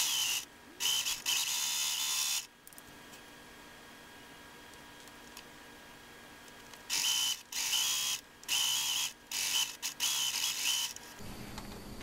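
A sewing machine stitches a temporary seam on pants fabric in several short bursts of whirring, with quiet pauses between runs.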